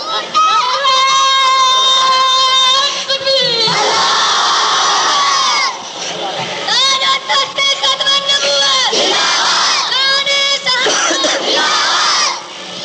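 A large crowd at a religious gathering shouts slogans in unison, loud and near, in repeated surging bursts separated by brief lulls, with the massed voices rising and falling together.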